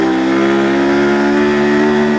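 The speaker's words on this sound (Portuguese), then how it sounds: "Vou começar a esgoelar a moto." A motorcycle engine revs hard and steadily while held in second gear, a loud, strained drone that holds at high pitch for the whole stretch, close by and with no talk over it.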